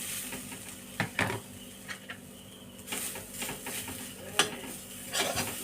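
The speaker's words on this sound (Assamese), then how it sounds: "নাৰিকলখিনি ভাজি ল'ম।" Grated coconut toasts in a pan, a soft steady sizzle broken by irregular spatula scrapes and metallic taps on the pan, close and moderately quiet with no talking.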